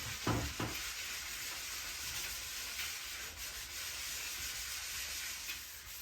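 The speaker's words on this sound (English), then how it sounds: "you just give it a scratch up, and you want the vinyl to dull off" Abrasive scratching across the vinyl backing of a glass kitchen splashback to dull it, a continuous close hiss of rubbing with no speech.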